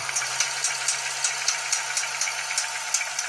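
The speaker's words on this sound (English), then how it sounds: "This is the engine running." A Ferrari engine running rough, played back through a small speaker held close to the microphone: a thin, tinny drone with an evenly spaced knocking tick about four times a second, no voices.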